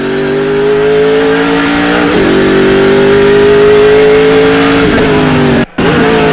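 Jean Alesi's Speedcar race car engine revs hard, a loud close wail climbing through gears with sharp shifts, holding high pitch, then briefly cutting out before roaring again.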